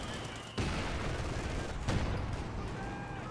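Gunfire from the Company of Heroes 2 strategy game, with sharp broadband bursts standing out over a dense, steady layer of battle noise, and a voice talking through it.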